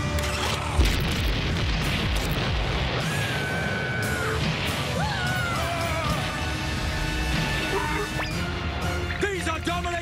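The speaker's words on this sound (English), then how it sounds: "Men, blow up the foothills!" A cartoon explosion blasting the foothills, with a loud booming rumble followed by crashing debris and clattering mechanical noises, plus shouting voices mixed in throughout.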